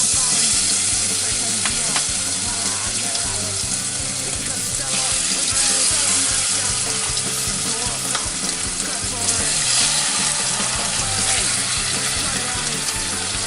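Pork for pressure cooker carnitas searing in very hot oil, a loud, dense, continuous sizzle and crackle that holds steady throughout.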